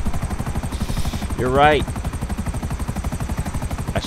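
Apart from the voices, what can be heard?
helicopter in video game GTA 5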